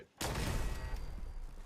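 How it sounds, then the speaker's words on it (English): A turret opening fire in Fallout 4: a sudden loud burst of rapid gunfire kicks in and keeps rattling steadily to the end, dense and continuous with no pauses. "Oh, it's a turret."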